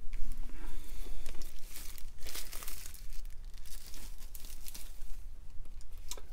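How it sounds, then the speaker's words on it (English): Plastic wrap being peeled and torn off a Fast & Furious 8 Blu-ray steelbook, a steady run of close, loud crinkling and crackling with brief tearing bursts, no talking. "So let's unwrap it."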